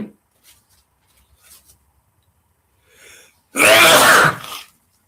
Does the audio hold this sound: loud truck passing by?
no